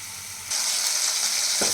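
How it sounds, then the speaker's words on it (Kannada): Bombay bonda balls deep-frying in hot oil, a steady bright hiss that jumps louder about half a second in and keeps sizzling, with a brief clink near the end; no talking. "ಚೆನ್ನಾಗಿ ಫ್ರೈ ಆಗಬೇಕು ಓಕೆನಾ ಚೆನ್ನಾಗಿ ಫ್ರೈ ಆಯ್ತಾ ಇದ್ದಂಗೆ"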